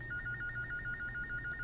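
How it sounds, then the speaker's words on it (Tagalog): A telephone rings in a steady warbling electronic trill, repeating pulses over a low background hum, with no voices. "Ang telepono."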